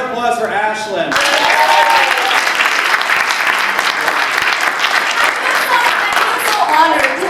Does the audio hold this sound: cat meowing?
no